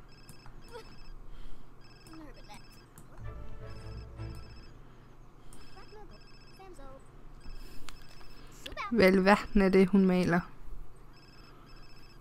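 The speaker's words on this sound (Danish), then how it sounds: "Hold op med at ringe din telefon" A phone ringing in The Sims 4: a repeating electronic ring pattern that keeps going under Danish speech, with a busier burst of game sounds near the end.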